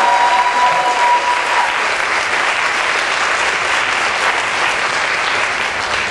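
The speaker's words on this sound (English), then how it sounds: "You can applaud" Sustained applause from a rally crowd after a line about urban education, dense steady clapping filling the whole stretch at even loudness with no voice over it.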